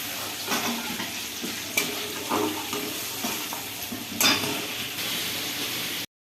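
Paneer pieces fry in hot oil with salt and turmeric for a paneer biryani, giving a steady close sizzle with several stirring scrapes and clinks from a utensil in the pan.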